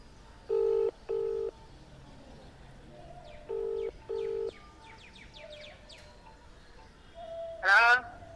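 Phone keypad dialling tones beep in two quick pairs with a pause between, over quiet background with faint bird chirps, followed by a brief louder rustle or chirp near the end.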